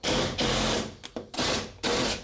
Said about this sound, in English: Whenever you're screwing into a shim, hold it, okay?